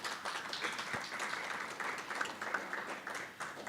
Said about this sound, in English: all members should give your organization a round of applause